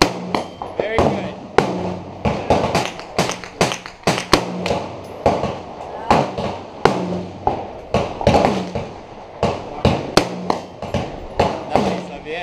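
An AR-15 rifle from Diamondback fires repeatedly at a shooting range, producing sharp, loud close shots at an uneven pace with brief gaps between them while people talk in between.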